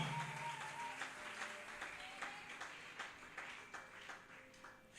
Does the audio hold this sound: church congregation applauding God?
yes